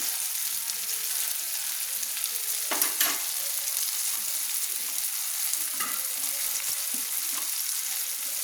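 Spices being stirred in a pan for a cauliflower fish curry, a steady hissing sizzle nearby with a few soft scraping strokes of the spoon, no voices.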